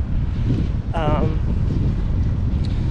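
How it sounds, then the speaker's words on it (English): Steady wind buffets the microphone throughout at Cape Leeuwin on the coast, a constant low roar, with a brief whistle-like tone near the start. "There's a little bit of wind, but it's not as bad as Canal Rocks"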